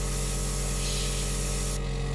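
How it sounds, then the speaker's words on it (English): An airbrush sprays a light base coat of paint, producing a soft, steady hiss that runs for a couple of seconds at low volume, with no voices. "So because I'm doing a base coat, I'm just going to give it a light spray."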